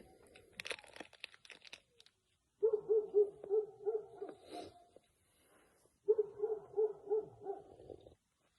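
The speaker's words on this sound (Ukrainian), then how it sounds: "собака гавкає" A dog near a shed in a rural yard gives two runs of rapid, moderately distant barks after some brief crinkly rustling, with short quiet gaps between the bursts.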